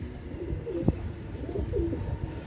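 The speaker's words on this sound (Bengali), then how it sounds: "আপনারা কবুতরগুলো দেখেন, ইনশাল্লাহ আপনাদের ভালো লাগবে।" Pakistani Teddy pigeons, a male and female pair, give soft, low cooing calls in a few rolling phrases close by, over a faint background rustle.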